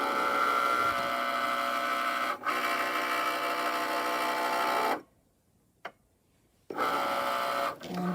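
A Cricut Maker drives its rotary blade through medium cotton fabric, a steady whirring mechanical hum with a brief dip, then silence with a single click before the motor whirs again.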